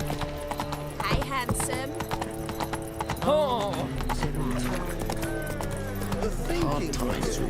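Roach the horse in The Witcher 3 trots with steady clip-clop hooves throughout, a brief whinny partway, while someone speaks over it and game music plays beneath.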